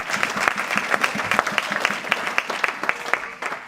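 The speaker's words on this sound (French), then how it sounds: "On acclame le Seigneur." A church congregation applauds, a dense burst of many hands clapping in a quick, uneven rhythm, close and lively, lasting a few seconds before tapering off.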